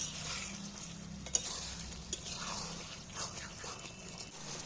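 Mutton cooks with onion and tomato as it is stirred and fried, a soft, close sizzle with scraping strokes and a couple of sharp clicks, fairly quiet throughout.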